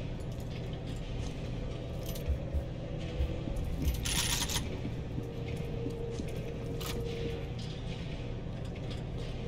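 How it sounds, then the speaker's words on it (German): Ammunition being picked up in the shooter game F.E.A.R. 2, soft clinks and jingles scattered under a steady dense background of game noise, with a brief brighter burst of pickups near the middle. "Erstmal ohne Ende Muni aufsammeln."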